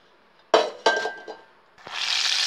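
Pots and pans clinking as cooking starts in a kadai, a few sharp metallic knocks followed by a steady hiss of oil heating on the stove, with no talk.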